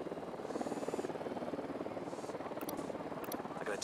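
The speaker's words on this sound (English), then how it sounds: "Chopper inbound." A helicopter in Ghost Recon Wildlands approaches with a fairly faint, steady rhythmic thump of rotor blades, alone, under a broad whooshing drone.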